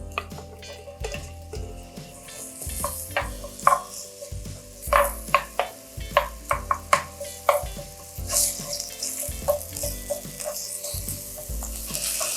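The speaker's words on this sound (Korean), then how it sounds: "양파를 먼저 볶아주세요." Onions stir-frying in two spoonfuls of grapeseed or cooking oil in a heated pan, with a steady sizzle broken by repeated scraping and stirring knocks of a utensil against the pan.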